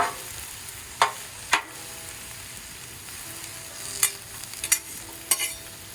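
Mushrooms, squash and zucchini frying on a griddle, a quiet continuous sizzle broken by several sharp scraping clicks of a spatula turning the vegetables.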